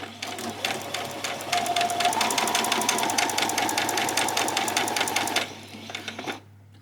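A sewing machine runs a back stitch while making a bodice: a close, steady rapid needle clatter for about five seconds, then a short slower burst before it stops.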